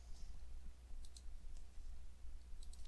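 Light clicking of computer keyboard keys in short scattered bursts, faint and fairly close, with a low steady hum underneath and no talking.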